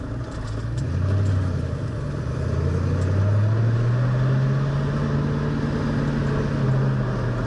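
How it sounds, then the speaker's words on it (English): A 1966 Ford Mustang engine runs steadily just after starting, close and fairly loud, its low hum rising gradually in pitch as the revs climb slightly. "I just touched the starter and the motor's running"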